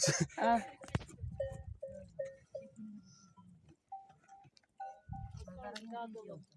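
Sheep bleat in short, repeated calls close by in Eğirdir, Turkey, while people talk and laugh around them.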